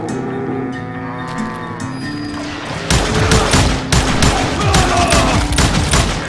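Gunfire in the Wild West shooter Call of Juarez: Gunslinger: a rapid fusillade of loud, close shots cracking in quick irregular bursts over tense game music, after a few seconds of music alone.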